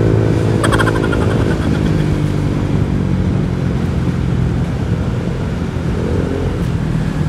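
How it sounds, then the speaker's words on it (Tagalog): A Honda Click 125i scooter with a remapped stock ECU accelerates on a test ride, its engine a steady, loud drone. Heavy wind rush runs underneath throughout, and no talking is heard. "Grabe ang lakas ng motor ko."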